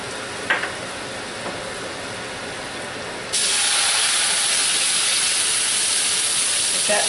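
Leg of lamb searing in a butter-slicked pan, a steady loud hiss that starts softer and swells abruptly partway through, then holds as a dense continuous sizzle with no talking.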